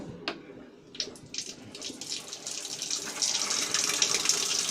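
A tap runs steadily into a sink, starting with a few sharp splashes and building to a constant close rush of water while plumbing fittings sealed with teflon tape are tested.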